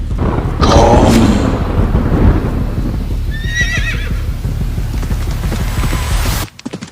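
A horse whinnies loudly over a rumble of thunder and rain, hooves clopping beneath, with a second higher neigh fading in midway before the stormy soundscape cuts off.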